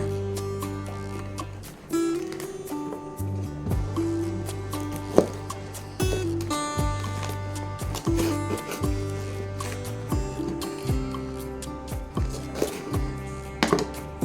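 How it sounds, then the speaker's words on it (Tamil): Green chillies for bajji have their stems cut off with a knife, giving sharp, irregular taps and chops on a cutting surface over steady background music. "இப்போ நம்ம காம் இந்த சைடு கட் பண்ணிடுவோம்"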